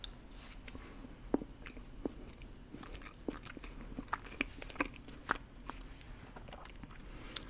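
Close, crisp bites and crunchy chewing of a Subway cookie, soft crackles recurring irregularly at close range over a quiet background with no talking.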